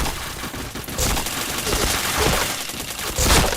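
Rapid bursts of gunfire from a first-person shooter video game, loud and dense, with several volleys crowding close together over a few seconds.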